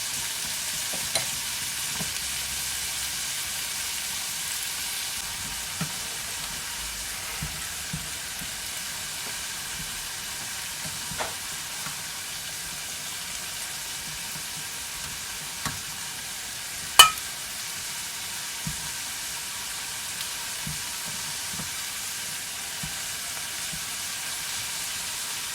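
Boiled liver frying in a pan in a village kitchen, a steady soft sizzle running throughout with occasional light clicks and a sharper clink near the end.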